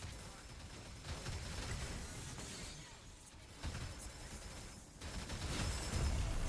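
Gunfire from the video game Fuse comes as a dense, continuous barrage of shots and crashes. The loud, noisy battle din swells and dips in waves without pause.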